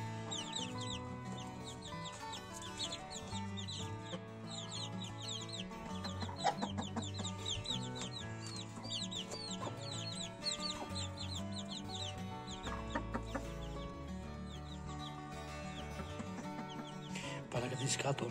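A broody hen clucks steadily among her peeping chicks, the chicks' high chirps near and continuous under her low, repeated clucks.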